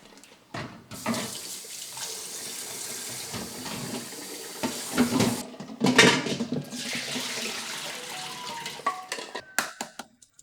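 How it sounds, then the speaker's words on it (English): Boiled eggs are transferred into cold water, water running and splashing into a sink or bowl, with scattered knocks and clatter toward the end, close by. "Now transfer them all into cold water."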